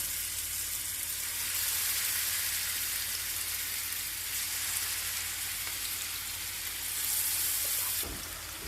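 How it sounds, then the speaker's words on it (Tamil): Marinated chicken fries in hot oil in a pan, a steady close hiss and crackle that holds evenly throughout, with no voices. "ஒரு பேனில் எண்ணெயை ஊற்றிக்கோங்க. அதில் சிக்கன் இப்படி போட்டுக்கோங்க."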